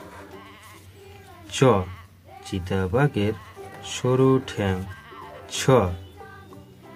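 A young goat kid bleats several times in short, wavering cries, close and fairly loud, interleaved with a voice reciting words.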